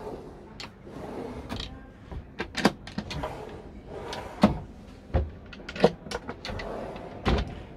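Kitchen drawers below the two burners of a Frankia i680 Plus motorhome are opened and closed, a faint, irregular series of sliding rumbles, clicks and soft thuds close by.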